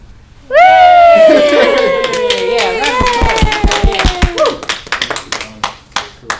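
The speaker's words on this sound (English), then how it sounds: "Shall we have a cheer?" A group raises a loud, drawn-out cheer that quickly gives way to a burst of clapping, with the applause thinning into scattered claps toward the end.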